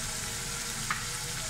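Chopped onions, already turned pink, frying steadily in a pan while yogurt is added for a beef trotters paya curry, giving a continuous close hiss with a brief soft bump near the end.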